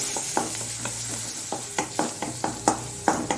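Garlic cloves frying in melting butter for a drumstick (moringa) soup, heard as a steady soft sizzle broken by repeated sharp stirring scrapes and taps of a spoon against the pan, close up with no talking.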